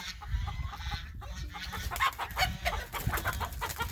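Turkeys clucking and gobbling close by, a busy overlapping chatter of birds with scratchy rustling underneath.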